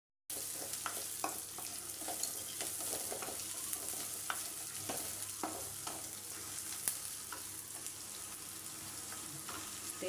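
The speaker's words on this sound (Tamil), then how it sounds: "வெண்டைக்காய் புளிக்குழம்புக்காக வறுக்கப்படுகிறது." Okra fries in a pan for tamarind curry with a continuous close sizzle, punctuated by repeated spoon scrapes and taps as it is stirred.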